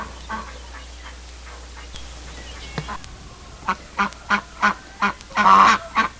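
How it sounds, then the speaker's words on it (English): A flock of Pekin ducks quacks loudly and close by, first with scattered calls and then a rapid run of five or six honking quacks ending in a longer, harsher burst. "So these are the 5 Pekin ducks that we got."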